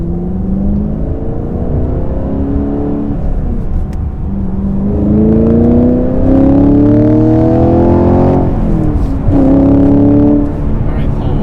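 Chevy Camaro engine revving in rising and falling sweeps with light throttle taps, loud and close from inside the car, while people talk over it.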